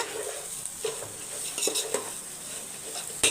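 Greens are stirred with salt in a pot while a large batch of Aadi festival koozh is made, bringing soft scraping and a few sharp clinks of a metal spoon against the pot at close range, with no talk.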